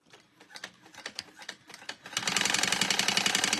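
A sewing machine top stitches a crossbody bag. Scattered slow stitches come first, then from about two seconds a steady, fast, close mechanical whirring rattle runs to the end.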